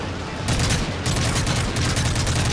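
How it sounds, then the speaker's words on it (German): Sustained machine gun fire in Call of Duty: Modern Warfare 3, dense rapid bursts of automatic gunfire that continue across the whole stretch with brief dips, loud and close, with a voice faintly mixed in. "Ach, ich glaube, da hinten hockt so ein MG, oder?"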